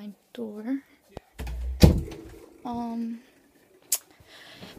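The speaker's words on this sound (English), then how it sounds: "Let me close my door." A bedroom door is shut at home with a single sharp thud partway through, set between bursts of nearby talking.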